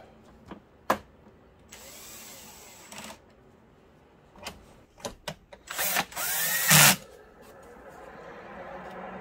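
A power drill drives screws back into a Digital Projection dVision 30 1080 XL DLP video projector, heard as a few short whirring bursts with scattered clicks. The loudest burst comes near the end, and no one talks.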